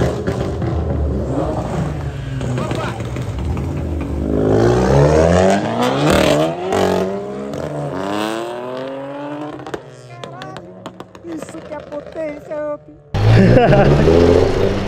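A GT car pulling away from a car meet at dusk, its engine note sweeping up loudly through the gears close by, then fading before another loud car rumbles in at the end.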